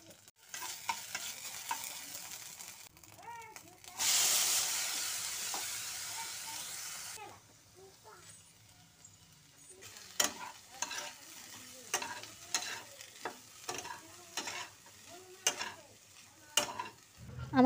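Cumin, panch phoron, bay leaf and ginger dropped into hot oil burst into a loud hissing sizzle for a few seconds, then a quieter crackle continues while a spatula scrapes and taps the pan repeatedly.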